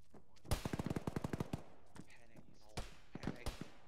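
Bursts of automatic gunfire in a military video game: a rapid string of close shots, then a pause and a few scattered single cracks, with a voice briefly audible.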